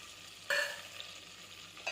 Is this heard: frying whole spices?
yes